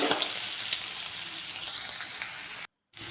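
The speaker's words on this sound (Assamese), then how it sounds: "এতিয়া কেৰাহীত তেল অকণমান গৰম কৰি মিডিয়াম চাইজৰ পিঁয়াজ এটা সৰু সৰুকৈ কাটি দি দিলোঁ" Finely chopped medium onion and fresh green chillies frying in lightly heated oil in a kadai, a close, steady crackling sizzle with a few sharper pops, cut by a brief moment of silence before it resumes.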